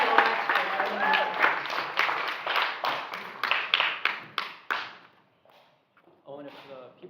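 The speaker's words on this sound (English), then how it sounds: "a big round of applause for these great speakers." An audience at a youth-led candidates forum in Los Angeles applauds the speakers: loud, sustained clapping that tapers off and stops, then a few scattered claps follow.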